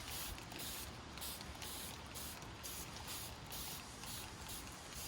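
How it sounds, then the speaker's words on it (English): Repeated quick hissing bursts of a spray bottle misting, fairly rhythmic and close, over a steady background hiss. "So we're using our little spray."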